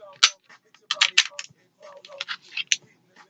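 Trigger pulls on a Polymer 80 pistol give sharp, close, dry clicks, a few spaced apart over a few seconds, with softer handling clatter between them.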